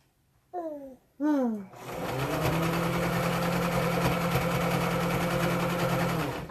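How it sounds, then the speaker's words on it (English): A sewing machine stitches a T-shirt dress straight over the pins, its motor running as a steady, continuous whir with a low hum. Two short rising vocal sounds come first, before the machine starts. "Sewing over the pins is so much fun"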